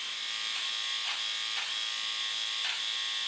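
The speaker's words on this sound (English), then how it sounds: "I hear it catching on some of the hair now." A MicroTouch Switchblade trimmer buzzes steadily at close range, with its high electric whine dipping briefly every half second or so as it catches on hair.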